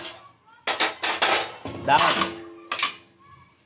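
Pots, pans and utensils clank and clatter in a home kitchen while punugulu fritters made with maida flour are being prepared, a few close, sharp metallic knocks and scrapes in bursts, with a brief spoken word.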